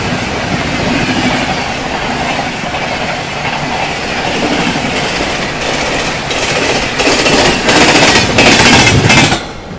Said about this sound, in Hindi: सामने से आ रही है रानी कमलापति से चलकर निज़ामुद्दीन की ओर जाने वाली शान भोपाल एक्सप्रेस